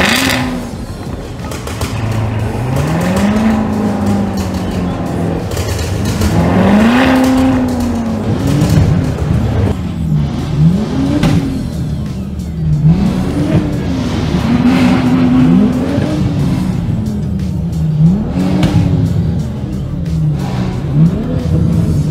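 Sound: cars starting and revving engines

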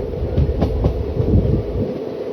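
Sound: Ratnachal SF Express train running on the tracks

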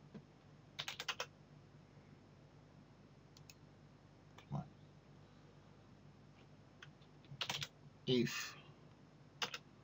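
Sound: typing lines of code on a computer keyboard

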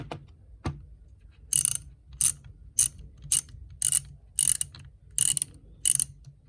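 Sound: cheap ratchet mechanism clicking

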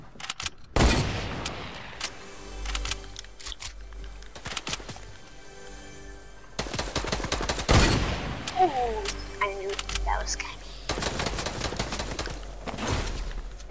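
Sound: gunfire in the video game Fortnite

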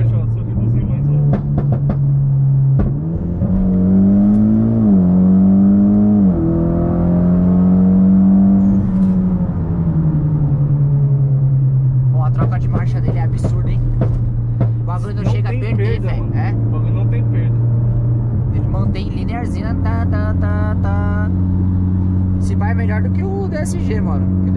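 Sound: Mitsubishi Lancer Evolution X accelerating

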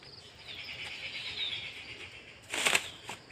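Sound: racing pigeon landing

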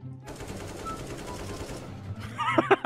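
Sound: AK rifle gunfire in a video game

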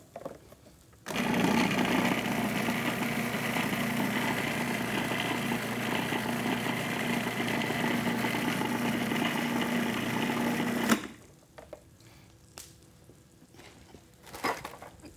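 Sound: blender pureeing roasted red peppers

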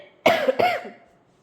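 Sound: cough

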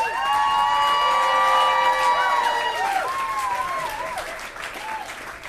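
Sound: audience applause and cheering

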